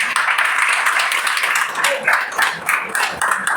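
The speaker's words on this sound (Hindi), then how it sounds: "उन सब के हाथ ताली दी" Dense, continuous applause from a Sunday church congregation fills the space, a thick wash of many hands clapping together for the youth, with a voice faintly present underneath.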